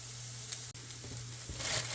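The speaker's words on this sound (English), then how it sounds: "While the onions are sauteing" Onions sautéing in a pan while garlic toast is made for Philly steak melts, giving a steady close sizzle with a low hum beneath and small clinks from stirring, growing slightly louder toward the end.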